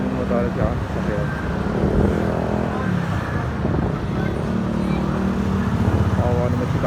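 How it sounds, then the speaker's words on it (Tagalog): Motorcycles and cars crowd a busy street lined with motorcycle repair shops, engines humming and revving close by in constant traffic noise while a person talks over it. "Ang daming motor at saka sasakyan."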